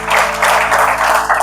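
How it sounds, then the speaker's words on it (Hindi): Brief burst of dense clapping from college students in a classroom career talk, steady and loud throughout with no talk over it. "तो एक बार ताली बजा दो इसके लिए।"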